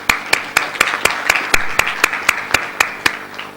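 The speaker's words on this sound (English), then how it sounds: "please give them a big round of applause" Audience at a mushaira poetry gathering hosted by a Lions Club in Riffa, Bahrain, clapping in a fairly steady rhythm of distinct, loud claps, close by, with no talking over them.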